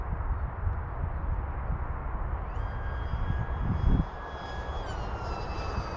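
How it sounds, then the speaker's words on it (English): An Atomrc White Dolphin RC model jet's motor whines steadily at a distance under wind noise, with a high-pitched tone rising and holding before easing off. "Kind of has that jet sound to it."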